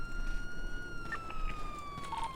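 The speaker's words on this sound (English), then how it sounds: "I just need someone to come over here and turn off my sirens." A police car siren in the video game GTA V wails in a steady, sliding electronic tone, moderately close, with faint background noise and no talk over it.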